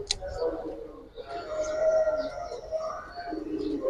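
Young Giribaj pigeons cooing in a loft, soft repeated murmuring coos mixed with a brief chirp at the start, close by, under conversation.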